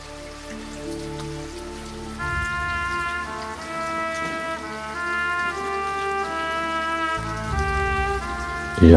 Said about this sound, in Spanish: Y ahora la lluvia llueve en el castillo de Castamere